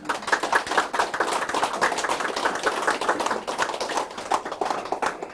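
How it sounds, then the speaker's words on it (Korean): An indoor lecture audience claps warmly to welcome a speaker, a dense, steady burst of applause that carries on for several seconds, close and fairly loud, with no voices over it. "뜨거운 박수로 환영해 주십니다."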